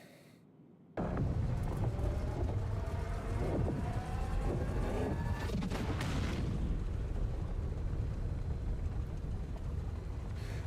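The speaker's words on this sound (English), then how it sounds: "when you get the bang of the engine finally igniting" A spaceship engine in the game Star Citizen ignites with a sudden loud bang, then settles into a steady, heavy roar that holds for about ten seconds, alone with no speech.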